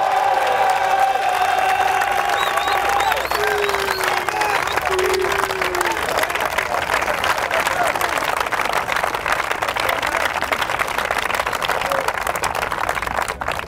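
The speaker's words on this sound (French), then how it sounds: "On acclame le Seigneur Jésus-Christ." A large crowd at a religious gathering applauds and cheers in acclaim of Jesus Christ. The clapping is loud, dense and sustained throughout, with a voice calling out over the start.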